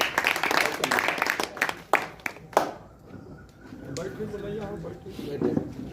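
An audience claps at a Hindi-language gathering, a couple of seconds of scattered applause before a voice begins speaking over the quieter room.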